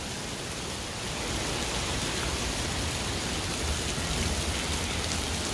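Steady rain falls outdoors as a dense, even hiss of drops, growing slightly heavier after the first second and continuing without voices.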